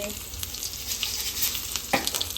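Mustard seeds crackle and sliced onion fries in hot oil, a continuous close sizzle broken by scattered sharp pops and a stronger burst near the end.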